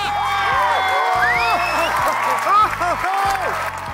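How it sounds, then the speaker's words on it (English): Boxing fans cheer a Scottish fighter from a mound that bears his name, a broad crowd roar with whoops and clapping running throughout, mixed beneath prominent music with sweeping tonal effects. "replaced with the sounds of fans cheering him on from a mound that bears his name"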